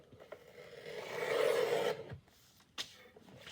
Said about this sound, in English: Bring in my cutter here. And I'm just going to trim off just a bit, just so it closes in the book